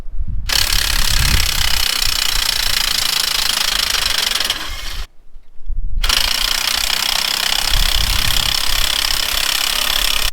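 Cordless impact gun backing a pipe reamer out of a fitting, loud rapid hammering bursts in two long runs separated by a brief pause, close up with no speech.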